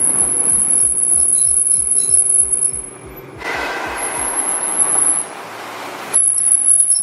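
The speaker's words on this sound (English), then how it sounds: "around town, they are incredibly squeaky, noisy, loud. They squeal so bad." Nissan GTR brakes on their original pads squealing in town driving: a thin, piercing high-pitched whine that comes and goes over the low engine rumble and road noise.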